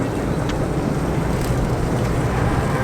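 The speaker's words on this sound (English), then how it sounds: "Welcome to the high-speed boat to Takamatsu." Continuous loud rumble of a high-speed ferry's engine and rushing water, bound for Takamatsu, Japan, a steady roar with wind noise throughout.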